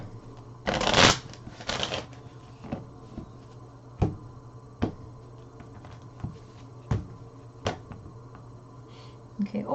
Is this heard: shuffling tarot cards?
yes